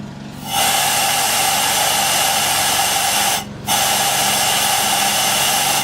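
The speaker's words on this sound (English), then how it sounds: "as I blow air into the cylinder it'll go out the exhaust instead of into the intake" Compressed air hisses steadily into the cylinder of an old barn-find pressure washer engine, a loud close blast that cuts off briefly once before resuming.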